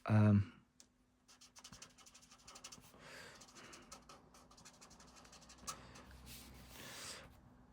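Alcohol marker tip scratching faintly across card while tracing around the edge of a drawn holly leaf, soft dry scraping strokes in short bursts after a brief initial knock, close but quiet.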